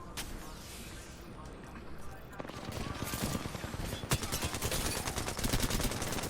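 Bursts of rapid gunfire crackle in an Xbox shooter game, dense and continuous with automatic-fire rattles under a busy in-game soundscape while a player talks over it.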